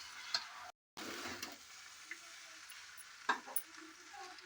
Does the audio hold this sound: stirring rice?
yes